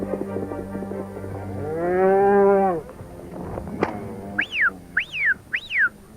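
Cattle moo repeatedly during a high country muster as cows are rounded up from pockets of pasture, a long loud low call followed by several shorter calls, with a person's high whistles in between.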